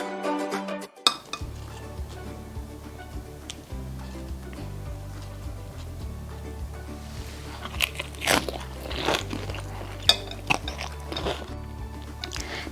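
Crisp spinach palak chaat, covered in sauce, crunches loudly between the teeth in close, repeated bites, with a faint clink of a plate or spoon and no talking.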